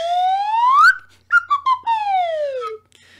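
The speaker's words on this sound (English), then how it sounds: "and there goes the whistle." A loud whistle blown in long sliding blasts, rising then falling, with short chirps between them, heard alone.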